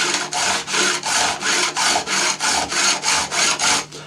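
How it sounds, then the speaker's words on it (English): A fine engineering smooth file strokes back and forth across ebony and metal guitar frets, about a dozen even rasping passes in a steady rhythm, close and clear with no talk. "So I'm now going to swap to my finest of my engineering smooth files"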